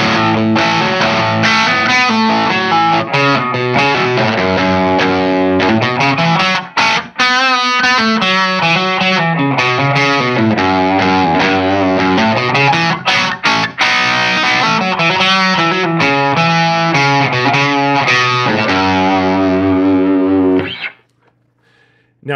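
An electric guitar played through a Silktone Overdrive+ pedal rings out loud and gritty with sustained distorted chords and melodic runs for about twenty seconds, then stops abruptly.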